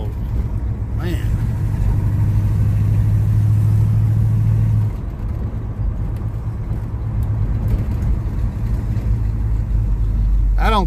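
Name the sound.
Chevrolet Monte Carlo car engine running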